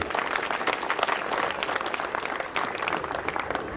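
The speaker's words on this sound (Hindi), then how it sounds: "इसलिए ताली बजाइए जोरदार आपसे।" A crowd at a Guru Ghasidas Jayanti celebration breaks into loud, dense applause, many hands clapping together in a continuous roar that holds steady throughout.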